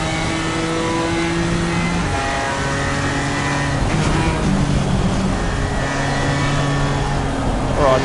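A GT4 race car engine in Assetto Corsa Competizione at Oulton Park drones loudly and continuously from the cockpit, with shifting pitch as it revs through gears, other cars faintly audible and a voice occasionally over it.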